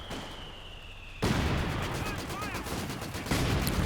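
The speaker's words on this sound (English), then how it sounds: "Mortar pit down now in the center. Trying to bomb out the opposing mortar," Mortar and gunfire from Company of Heroes 2: a quiet battlefield bed gives way to a sudden loud burst of dense, crackling gunfire and blasts that continues steadily, with a voice faintly under the din.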